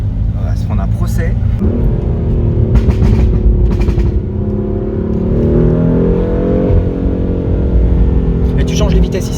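A BMW M4 fitted with a Milltek exhaust revs hard, its deep engine note climbing and holding as the throttle is blipped, loud and close, with people talking over it.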